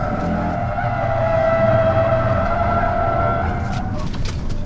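An electric car in dynamic mode sliding its tail out, tires squealing in a sustained, wavering high whine over steady road and motor rumble, loud and continuous throughout.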